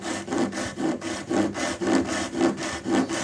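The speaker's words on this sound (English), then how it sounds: "We're cutting into end grain now." A hand saw rasps back and forth through the end grain of a wooden dowel in steady, even strokes, close and clear, with a regular rhythm of about two strokes per second.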